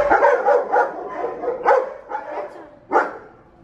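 A husky barking at an animal shelter, a string of loud, close yips and barks in uneven bursts, with a final sharp bark near the end.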